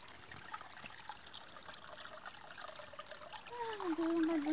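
Small stream of water trickling over the ground outdoors, a faint, continuous gentle babble heard up close with a thin rising tone near the end.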